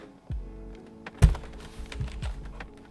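Keys clatter on a cheap membrane computer keyboard, a close, uneven burst of soft thuds and taps with one heavier knock partway through, and no voices.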